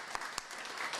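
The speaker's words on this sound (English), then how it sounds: "Clap loud." An audience at a Paint the Town Pink mammography fund event applauds Tina Tyus Shaw, a brief, fairly faint patter of clapping with a couple of sharper individual claps.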